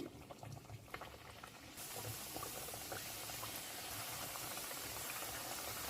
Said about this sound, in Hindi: इसको इस तरह से पलटते हुए दोनों साइड से हमने गोल्डन ब्राउन होने तक फ्राई करना है